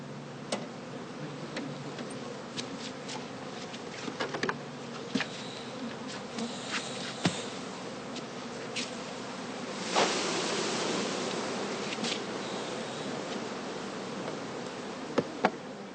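Honeybees buzzing around heather skep hives in an autumn apiary: a steady, close insect drone that runs throughout, with a swell of denser buzzing partway through and scattered ticks and knocks.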